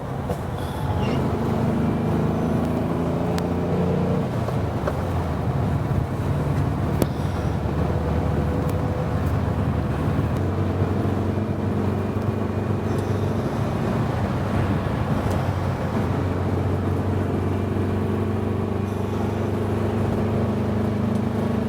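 A 1979 Volkswagen Super Beetle convertible cruises down the freeway, its steady engine drone and road rumble continuous and loud, with wind and passing traffic noise washing over it and no talking.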